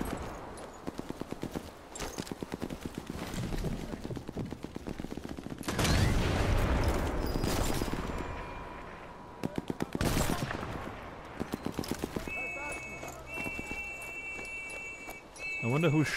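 Bursts of distant rapid gunfire from partisans in the Sniper Elite 4 video game, firing in short rattling volleys separated by pauses and heavier blasts.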